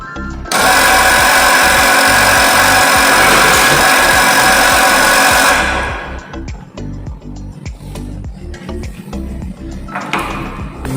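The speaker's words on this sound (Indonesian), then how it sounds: "kita nyalakan ticker timernya dan biarkan troli ini berjalan" Ticker timer running during a Newton's second law trolley experiment, a loud rapid buzzing rattle that holds steady for about five seconds and then cuts off, leaving quieter clicks and handling noise.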